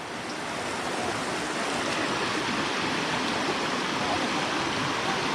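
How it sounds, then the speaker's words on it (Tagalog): Strong river water rushes loudly and continuously at a waterfall crossing in rainy conditions, a dense, unbroken roar of flow heard alone. "Medyo malakas ang daloy ng tubig."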